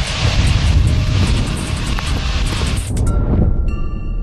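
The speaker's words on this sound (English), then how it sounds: "It's the one-of-a-kind Antonov 225." The Antonov An-225, a one-of-a-kind giant six-engine jet with over 300,000 pounds of combined thrust, roars steadily and loudly, with a broad wind-buffeted rumble that drops away near the end, leaving a few faint tones.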